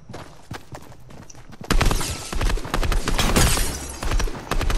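Fortnite gunfire crackles in rapid bursts, sparse shots at first and then a dense, loud volley of overlapping shots and impacts lasting several seconds.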